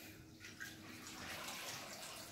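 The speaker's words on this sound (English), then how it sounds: "dip the mop into the detergent water" A mop is dipped into a bucket of detergent water on a hospital triple-bucket mopping trolley, giving a soft continuous sloshing and splashing that is faint and steady, with no talk.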